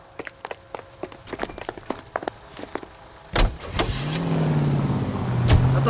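A car in the video game L.A. Noire: footsteps and a door clunk, then the engine starts and revs up, growing into a steady, close motor drone as the car pulls away.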